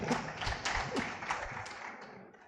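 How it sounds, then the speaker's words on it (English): Audience applause at a fintech conference, a short, faint, scattered patter of clapping that tapers off quietly. "Clap for that, guys."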